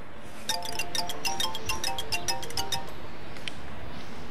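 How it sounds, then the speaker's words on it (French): A mobile phone ringtone rings with a repeating bright electronic melody of quick chiming notes, loud and close, playing for about two and a half seconds before stopping, with a faint extra chime afterward. "ton téléphone sonne"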